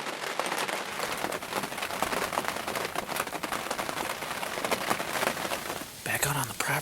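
Steady outdoor rain pattering on surfaces on a cold winter day in the 40s, a dense continuous hiss with a brief shift near the end.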